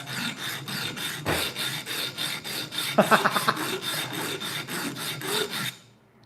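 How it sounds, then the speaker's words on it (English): A handmade jaw harp has its burrs filed off, giving a steady back-and-forth rasping rhythm of about fifteen strokes, close and fairly loud, with no talk. "Just taking off burrs. Taking off burrs. Taking off burrs. Kind of roll it back and forth."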